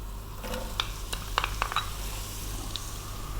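Chopped onion frying in coconut oil with curry leaves in a pan, a steady close hiss broken by a cluster of small crackles and light spatula clicks, with no voice.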